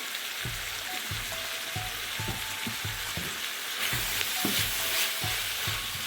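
Tomato pepper being stirred into a sizzling chicken shawarma sandwich filling in a pan, with regular rhythmic scraping strokes about every half second over a constant frying hiss, up close.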